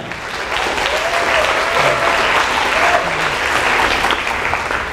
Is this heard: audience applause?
yes